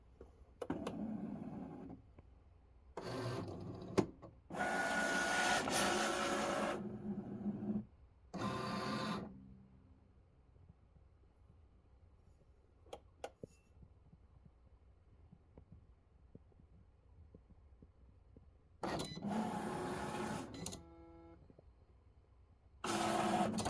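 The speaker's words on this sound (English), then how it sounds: "I'm about to make a graduation card on the Cricut machine." A Cricut cutting machine slicing card stock for a graduation card whirs in several loud mechanical bursts of a few seconds each, separated by quieter pauses and faint motor hum, with no talking.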